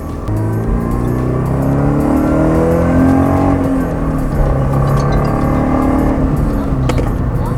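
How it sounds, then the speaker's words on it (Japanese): A tuned Toyota 86 engine hums with a deep, bassy aftermarket exhaust note, steady and loud throughout with slight rises in pitch as it revs, heard from inside the cabin. "車の中にまで入ってきてるんで、このマフラーの音はお気に入りです"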